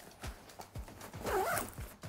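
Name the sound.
backpack zipper being opened or closed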